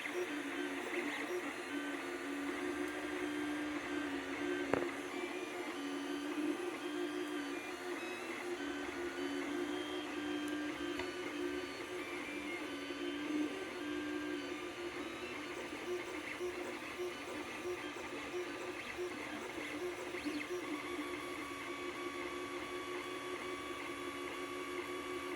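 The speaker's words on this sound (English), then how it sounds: "So now it's printing out the very first layer of the little lizard." A 3D printer lays down the first layer of a small lizard model, giving a steady, continuous mechanical whir with faint tonal stepper-motor hums throughout, moderately loud and close, with no speech.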